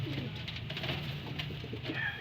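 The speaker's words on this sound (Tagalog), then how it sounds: "papagpagin muna natin itong mga ibon natin" Racing pigeons in a loft coo softly and repeatedly, with low throaty calls close by over a light background murmur.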